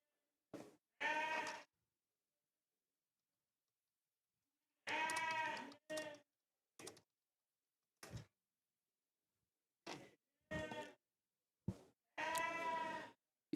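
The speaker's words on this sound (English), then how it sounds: "Little sheep jumping around like crazy." Poll Dorset sheep bleat in a show shed at a championship event: a series of loud, close, separate baa calls, some long and wavering, some short, with silent gaps between them.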